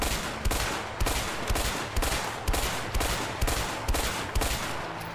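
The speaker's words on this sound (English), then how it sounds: "M16, burst fire assault rifle" Repeated short bursts of M16 assault rifle fire in the co-op game A Way Out, about ten evenly spaced three-round volleys cracking loudly one after another with no talk.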